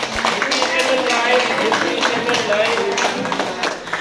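Guests clap their hands at a retirement farewell gathering in Bongaigaon, a continuous bustling patter of applause mixed with lively voices talking over it.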